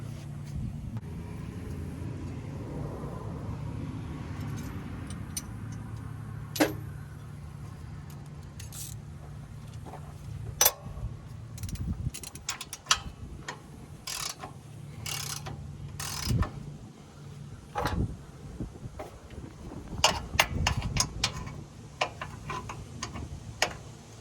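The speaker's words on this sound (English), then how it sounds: "For now I just got to get these 2 bolts out and this moved over to where it's here, and I can get this tank bracket out." A ratchet works at the bolts on a cabover truck's fuel tank bracket, giving irregular bursts of clicking and metallic knocks over a low steady hum, close by and without talk.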